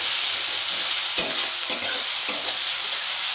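Onion frying in oil for a low-spice pomfret fish curry: a steady, bright close-up sizzle with a few soft stirring knocks from a spatula.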